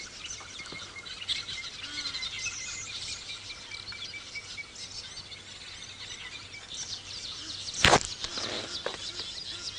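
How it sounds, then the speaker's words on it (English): Many small weaver birds chatter and chirp in the distance over a steady insect hum at sunrise on safari, with one sharp louder click near the end. "Can we hear all the weavers in the background?"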